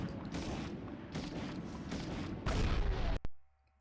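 M1 Garand rifle fire in the video game Medal of Honor: dense, sustained bursts of gunfire and booms, ending in a sharp crack followed by a sudden drop to near silence.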